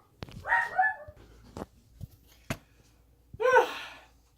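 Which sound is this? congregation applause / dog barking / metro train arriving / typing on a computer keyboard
dog barking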